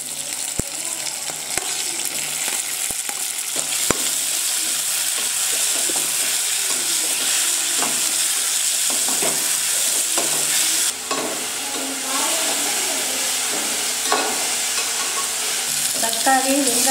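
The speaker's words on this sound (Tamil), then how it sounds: "தக்காளி வெங்காயம் எல்லாமே நல்லா வதங்கிடுச்சு" Tomatoes and onions sauté in a pan, a constant loud hiss of frying with intermittent clicks and scrapes as they are stirred, running steadily throughout.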